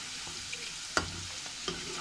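Firmly cut bitter gourd pieces fry in oil until browned like pakora, a constant hiss of sizzling with a few faint spoon clicks and one louder scrape near the middle.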